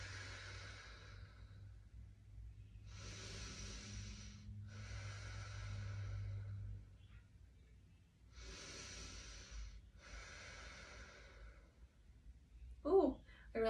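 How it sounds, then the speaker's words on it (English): Slow, deep breaths during a gentle morning yoga neck stretch: several long, airy inhales and exhales, each lasting about a second, separated by short pauses, close and fairly soft, with a brief rustle at the end. "Long deep breath out."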